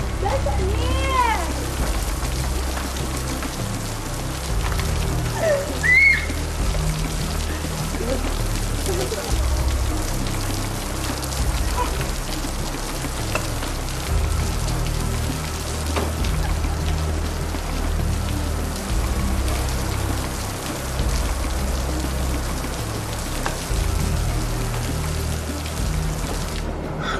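Steady rain falls outdoors in a broadband hiss, with a person splashing along in the wet and a few faint high chirps and voices in the background.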